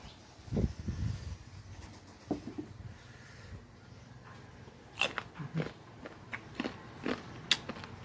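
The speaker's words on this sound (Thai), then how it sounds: "กรอบฟังเสียง" Someone bites into crisp green mango, giving a few close, crunchy bites and chewing crackles spaced out over several seconds against a quiet outdoor background, with no talking.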